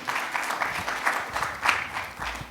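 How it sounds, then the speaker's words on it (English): An audience applauds after a keynote presentation on cybersecurity strategy, a steady patter of many hands clapping at moderate volume for a couple of seconds. "Ladies and gentlemen, a bigger round of applause"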